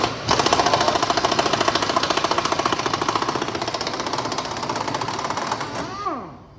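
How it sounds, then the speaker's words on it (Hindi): A pneumatic impact gun hammers in reverse on the tight rear wheel axle nut of a BMW S1000RR motorcycle, a fast, loud, steady rattle lasting about six seconds before it stops abruptly. "पिछला टायर खोलने के लिए ये गन रिवर्स में चेक करनी है।"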